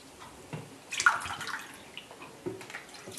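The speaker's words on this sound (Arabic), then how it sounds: "نجيبو نحطو الماء الكوب الاول" Cupfuls of water poured into a pot of sugar, lemon and orange for jam make short splashing gushes, the main pour about a second in and another near the end, close and fairly quiet with no voices.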